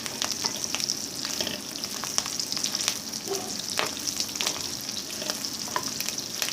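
Pork fries in a pan for a spicy Thai bamboo shoot stir-fry, giving a steady close sizzle broken by scattered crackles and the scrape of stirring, with no talk.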